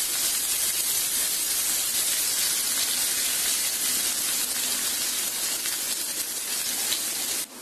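Chopped ginger, green chili and onion fry in a pan for a dry chili chicken dish, giving a loud, even hiss of sizzling oil with no talking.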